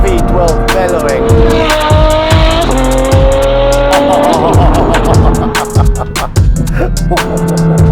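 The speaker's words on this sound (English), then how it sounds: "F12 bellowing." Novitec Ferrari F12 N-Largo V12 supercar engine bellowing in Dubai, a loud, close, continuous roar with rising and falling revs and sharp crackles near the end, with no talking.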